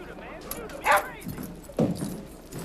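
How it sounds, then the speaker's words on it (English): A dog barks and yips a couple of times in a domestic scene from a Robert Altman film, short sharp calls under and between people's voices. "The dog's barking."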